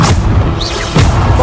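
Bombarda blasting-spell explosions in the Hogwarts Legacy video game: two loud, heavy booms about a second apart, each with a deep rumbling tail.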